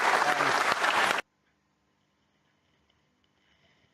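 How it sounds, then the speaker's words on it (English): A brief burst of audience applause for rugby referee Wayne Barnes at a high-tackle referee training session: dense, close clapping for just over a second, then it stops abruptly into near silence. "A special round of applause for Wayne, please."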